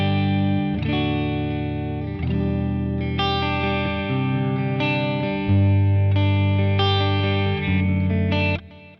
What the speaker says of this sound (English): So this, I believe, is a very simple clean tone.